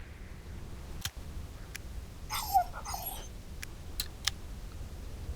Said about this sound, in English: I can call the dog.